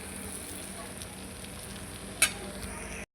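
Crushed chickpeas frying in a pan for pendpala, a steady soft sizzle with a sharp clink of a utensil near the end before it cuts off.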